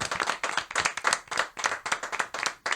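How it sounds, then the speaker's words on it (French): An audience on a French late-night game show claps in a lively burst of separate, fairly loud hand claps. The claps land in a quick, uneven rhythm with no talking over them. "On peut déjà vous applaudir."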